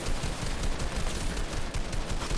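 Rapid assault rifle fire in Fortnite, a dense stream of shots at low, fairly quiet level running continuously with no talk over it.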